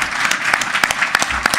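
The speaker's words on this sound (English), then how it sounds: "let's please give them all a round of applause," A symposium audience claps in a brief burst, loud dense applause with a few sharper individual claps standing out.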